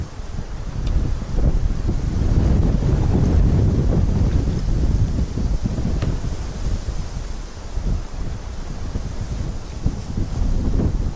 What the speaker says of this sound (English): It's so windy that nobody can hear anything.